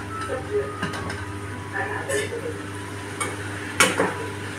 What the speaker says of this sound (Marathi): छानपैकी तेलात परतवून घेते फ्लावर आणि बटाटा